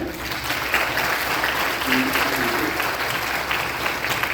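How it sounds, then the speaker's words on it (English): A middle school audience applauds at a 6th grade band concert, giving a sustained, dense round of clapping throughout. Faint voices are audible beneath the applause. "A round of applause for him."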